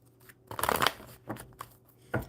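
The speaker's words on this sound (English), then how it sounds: "One good shuffle." Playing cards are shuffled close up: a quick riffling burst followed by a few short, crisp card slaps.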